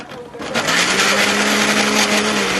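An electric grinder whirs to life and grinds whole ginger, its loud, steady motor roar starting after a brief pause and running without a break.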